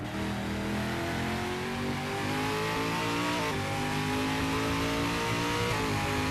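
A V8 Supercar races around the track in the 2008 championship, its loud engine roaring close by and rising and falling through gear changes with no break.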